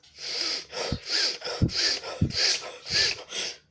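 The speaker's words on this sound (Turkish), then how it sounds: "Diyaframdan. Şuradan nefes alacaksınız." Deep diaphragmatic breaths repeat in a slow, even rhythm, each audible inhale and exhale rising and falling close to the microphone with soft nasal hiss, about five breath cycles with no talking.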